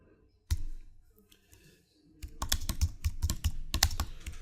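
Keys clatter on a computer keyboard as a short title is typed into Adobe InDesign, with a single tap followed by a pause, then a rapid run of close, crisp keystrokes.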